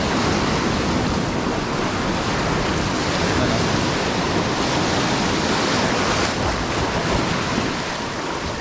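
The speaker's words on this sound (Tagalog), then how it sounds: "Pagka malakas ang alon na ganyan" Strong surf crashes continuously against the shore in a dense, steady roar of churning water, with wind buffeting the microphone throughout.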